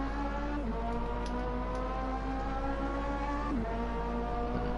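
A car engine in the Assetto Corsa racing game holds a steady, droning hum with a faint rise and fall in pitch, continuous and moderately loud, with no talk.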